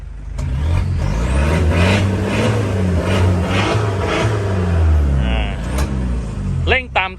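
A used Toyota D4D diesel pickup engine idling, a low steady rumble with a rhythmic throb throughout, while someone talks over it.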